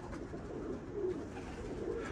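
Domestic pigeons cooing, a soft low rolling coo repeated through the short stretch, fairly close with steady background noise.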